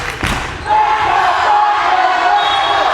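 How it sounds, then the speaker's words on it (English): A volleyball crowd in a school gym gets fired up, a loud sustained roar of cheering voices that swells after a short thump and holds steady. "Crowd getting fired up as Putnam wins 2 straight to cut the lead to 8."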